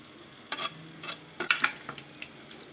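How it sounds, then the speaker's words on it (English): Fish biriyani marinade of vanjaram fish being mixed by hand in a bowl, giving a few scattered wet clinks and stirring scrapes, fairly close and quiet, with no talking. "The marination, we have to mix this nicely"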